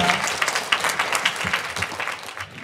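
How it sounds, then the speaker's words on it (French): An audience at a French talk on exile applauds, dense overlapping clapping at moderate volume that tapers slightly toward the end. "On peut applaudir"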